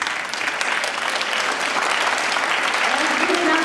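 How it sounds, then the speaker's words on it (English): Concert audience claps steadily for teachers called up on stage, a dense, continuous wash of applause that stays loud for the whole stretch. "give another round of applause to our wonderful teachers"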